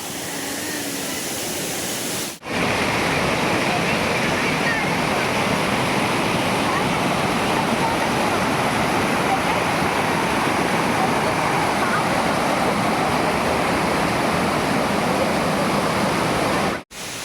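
Rushing stream water at Kanyarkuzhi waterfalls, a steady broadband roar that starts abruptly after a brief quiet moment and stays loud and close, unbroken throughout.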